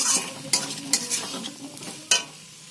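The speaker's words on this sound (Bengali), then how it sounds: "বুটগুলি দিয়ে আমি 5-7 মিনিট ভালো করে কষিয়ে নিয়েছি" Boiled chickpeas are stirred and sautéed in spiced masala in a pan, with a soft sizzle beneath repeated scraping strokes of a spoon, close and clear.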